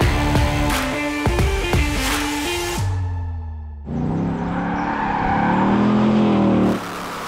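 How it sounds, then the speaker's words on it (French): A Ford Mustang Bullitt engine roars loudly and close, revving up through several quick gear changes, dropping off briefly, then pulling hard again in a sustained high growl. "La Ford Mustang Bullitt."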